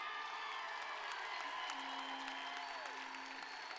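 Faint, steady applause from a large crowd at a high school graduation ceremony, distant and continuous throughout, with a faint tone running beneath it.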